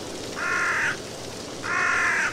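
In the horror video game Shutter Part 2, a crow gives two harsh, drawn-out caws with a short gap between them. The calls are loud and close over a low ambient background.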